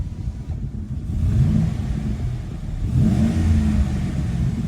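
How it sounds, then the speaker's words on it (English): A 2018 Chevrolet Silverado 2500 pickup with a 6.0 engine and Flowmaster exhaust revs twice with a deep, rumbling exhaust, swelling and settling back to a low idle. "Let's give it a couple of revs here."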